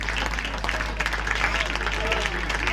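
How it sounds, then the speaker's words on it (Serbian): Audience applause in a festival hall for Ison, a national mixed inclusive choir, a dense steady wash of clapping held close and loud across the short stretch, with a low hum beneath and faint voices mixed in. "Veliki aplauz za moj predivni Isan, veliki aplauz za vas"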